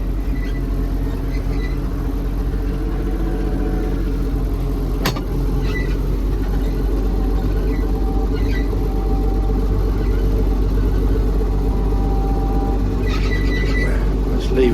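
Massey Ferguson MF 1200 tractor with a modified setup, its engine rumbling steadily and loudly at close range as it drives forward, a constant low drone with a brief click partway through.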